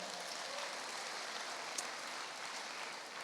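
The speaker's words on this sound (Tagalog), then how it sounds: "Tapos tagag ko sa palakpak ang Ginoo igsoon." Applause in a church service rises as a soft, steady wash of clapping from a congregation, faint and somewhat distant, continuing evenly with no talking over it.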